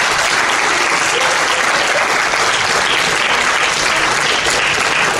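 Church congregation applauding loudly and steadily, a dense wash of clapping from a full room that holds evenly throughout without a break.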